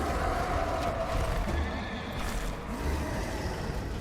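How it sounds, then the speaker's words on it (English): A horse whinnies in the Darksiders video game, a loud, breathy neigh over a dense, rumbling game soundscape that fills the whole moment. "This is where the horse shows up."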